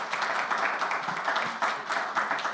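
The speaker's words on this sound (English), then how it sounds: "please join me to thank our excellent panelists with a round of applause." An audience at a conference session applauds to thank the panelists, giving a short burst of brisk, close clapping from a small crowd with fairly even loudness.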